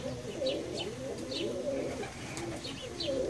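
Two pairs of Vieshianas pigeons coo in soft, repeated low phrases, with a few faint chirps and light rustling in the background.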